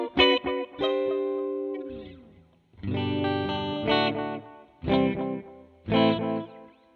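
A Jazzmaster electric guitar runs through an FX Echo-X gated digital delay with light reverb, playing bright chords and single notes whose repeats cut off abruptly in gated bursts, with short silences between phrases.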